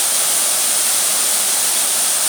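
A steady, full-bodied roar of falling water from an 8-metre waterfall in Presidente Figueiredo, Amazonas, unbroken and fairly loud throughout, with no voices.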